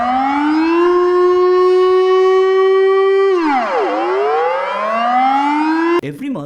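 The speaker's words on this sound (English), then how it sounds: "it is the country's air raid system that are being tested" A Dutch civil defense air raid siren sounding during its monthly test: a loud, steady wail that holds its pitch, then drops and climbs again, with an abrupt cut near the end.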